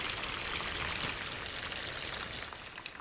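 A granular synth patch played on an iPad produces a steady, dense hiss of tiny grains that sounds like rain or running water. It holds an even level throughout and fades slightly near the end.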